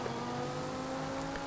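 A race car engine in Forza Horizon drones steadily at high revs, a continuous buzzing whine held without breaks, moderately loud and alone.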